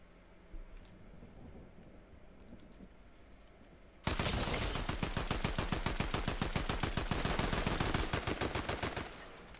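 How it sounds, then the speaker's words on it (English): Rapid automatic gunfire from a player's weapon in Fortnite bursts in loudly after a few seconds of quiet background, a dense, steady stream of shots that runs to the end. "I think I'm gonna shoot him this time, dude"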